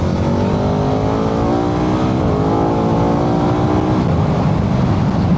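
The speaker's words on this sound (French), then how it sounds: "Ici le moteur il est rageur, il est souple" A KTM 1390 Adventure S Evo motorcycle engine pulls hard and steadily, its pitch climbing smoothly through the revs in one loud, continuous acceleration run.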